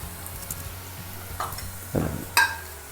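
Dry spices (coriander powder, Kashmiri chili powder, turmeric and garam masala) go into onions browning in a pan for a Kerala-style egg curry. A steady close sizzle and fry runs throughout, broken by a few brief scraping stirs and clinks.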